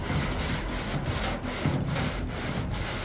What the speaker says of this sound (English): So I got 220 on my sander here. I'm just gonna glide over it.